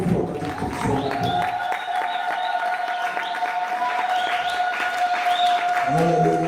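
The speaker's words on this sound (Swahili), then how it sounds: "Hebu tupigie sote makofi wakati tunasoma." A church congregation at a revival meeting in Moshi clapping together, a sustained wash of hand claps under a voice and sustained tones, swelling briefly at the end.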